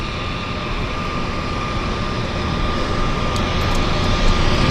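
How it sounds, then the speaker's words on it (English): A de Havilland Otter floatplane in Canada flag livery taxis at a harbour airport, its piston engine and propeller giving a steady, broad drone that grows slightly louder over a few seconds, with no talking. "We've got the Canada flag livery Otter coming out now."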